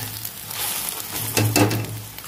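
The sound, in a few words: beaten egg frying in oil in a pan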